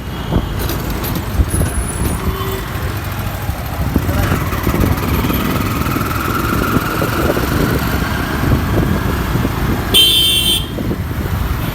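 Busy street traffic at Shahbagh, Dhaka: a steady rumble of cars, trucks and motorbikes with scattered horn toots, and a brighter honk near the end, all continuous and close.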